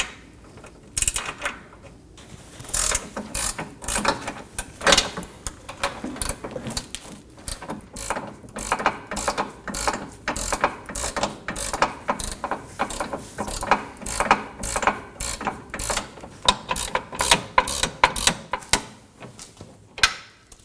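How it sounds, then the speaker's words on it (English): Ratchet wrench backing a nut off a rear sway bar end link on a 2015-2023 Nissan Maxima, giving quick, close, repeated clicking strokes in bursts that continue throughout. "Now remove the second nut."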